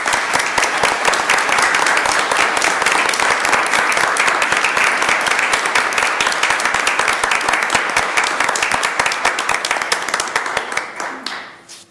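Audience applause for National Merit Scholarship recipients at a school board of education meeting: sustained, dense clapping from a crowd that holds steady for about ten seconds, then tapers off and fades at the end.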